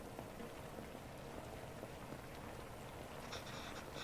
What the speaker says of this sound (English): Oh, listen to that good boiling sound now.